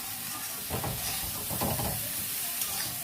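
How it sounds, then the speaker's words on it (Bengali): Spiced nota greens stirred and frying in a pan, with soft steady sizzling and hiss under a few scraping stirs, fairly quiet and close. "তারপর এটাকে ভালো করে মিশিয়ে নেব নাড়াচাড়া করে।"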